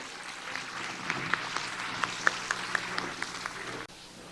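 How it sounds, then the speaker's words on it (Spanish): Scattered applause from a forum audience welcoming a speaker at a school education event, light and fairly distant, with a few sharper individual claps standing out before it cuts off abruptly. "Vamos a recibirlo con un fuerte aplauso."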